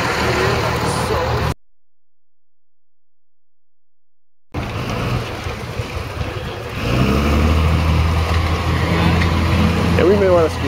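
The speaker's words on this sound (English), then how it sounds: "Driving this tank." A tank's engine runs while it is driven, a low rumbling drone that grows heavier toward the end under excited voices, broken by a brief silent gap early on.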